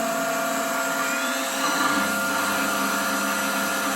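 A 1980 Matsuura 710V CNC milling machine spindle runs with a loud, steady high-pitched whine and a broadband mechanical roar, close and continuous.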